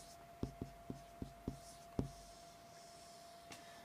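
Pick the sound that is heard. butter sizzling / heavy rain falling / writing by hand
writing by hand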